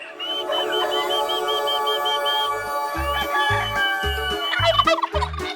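Turkeys gobble in a loud, bubbling chorus, with a steady high whistle running through much of it and several low thumping sounds near the end.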